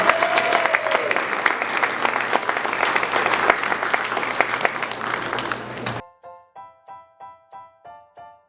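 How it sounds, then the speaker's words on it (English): Audience gives a long, loud round of applause for award-winning scholars at a school medal ceremony. The dense clapping cuts off abruptly, and a short rhythmic series of repeated tonal notes follows. "all of these scholars deserve a humongous round of applause for their amazing achievements"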